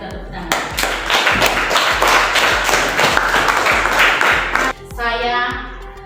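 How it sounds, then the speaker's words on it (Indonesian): A classroom of children claps together in quick, sharp, fairly loud bursts for a few seconds, then the clapping breaks off into excited kids' voices and chatter. "Kita tepuk tangan."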